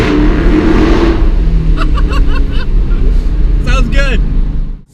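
A 2016 Dodge Charger Scat Pack's exhaust roars under an overpass, a loud, deep, sustained rumble that holds steady and then cuts off at the end, with a few honk-like squawks layered over it near the close.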